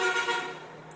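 Car horns honk from traffic passing along a nearby avenue, a brief blaring burst that fades quickly, heard indoors with no talk over it.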